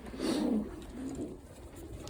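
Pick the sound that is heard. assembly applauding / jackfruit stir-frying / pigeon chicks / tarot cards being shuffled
pigeon chicks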